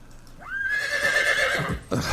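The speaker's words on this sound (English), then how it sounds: "Get the horse out of here." A horse gives a loud, close whinny that rises and holds a long wavering cry before breaking off, with a brief thump at the end.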